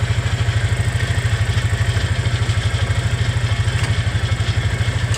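A Hisun UTV engine runs with a steady, rhythmic, chugging idle, close and moderately loud throughout, with no talk over it.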